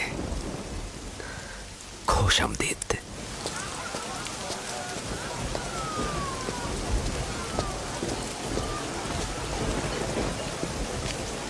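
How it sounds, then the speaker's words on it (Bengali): Steady rain hisses down without a break, with a brief louder clatter early on and a faint voice murmuring under the downpour. "দেখো বৃষ্টি এসেছে"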